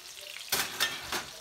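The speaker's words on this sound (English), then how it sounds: "Okay, I'm sauteing the mushrooms." Mushrooms sauteing in a pan for chicken and mushrooms in wine sauce, a steady soft sizzle broken by three louder bursts of stirring, close and with no talking.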